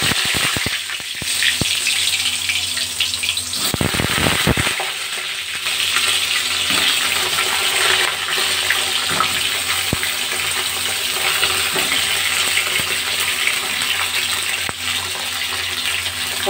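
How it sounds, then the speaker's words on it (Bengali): Pointed gourd pieces fry in hot oil in a wok with a loud, steady hiss and crackle, a short burst of stirring near the start, no talk. "তেল গরম হয়ে গেছে, পটলগুলো দিয়ে দিলাম।"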